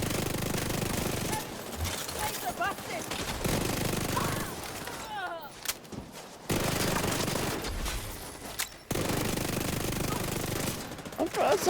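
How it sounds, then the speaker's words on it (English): Pistol gunfire in the video game Division 2: close, loud bursts of rapid shots broken by short pauses, with game effects and a voice talking in places. "I'll use my pistol to get right up in there."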